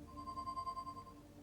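A phone in the Leisure Suit Larry: Wet Dreams Dry Twice video game rings once with a faint, steady electronic tone, short and quiet.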